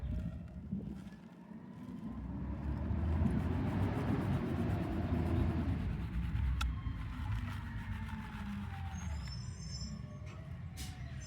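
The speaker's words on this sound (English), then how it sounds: "It's trash day out there, and he's out there picking it all up." Outside on trash day, a garbage truck works the front yard nearby, its diesel engine swelling into a loud rumble, then easing off, with a sharp air-brake hiss partway through and softer mechanical rattles afterward.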